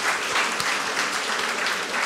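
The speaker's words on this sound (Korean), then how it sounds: "우리 하나님께 박수 한번 드릴까요?" Church congregation applause fills the room, a steady dense clapping from many hands with a few faint voices mixed in.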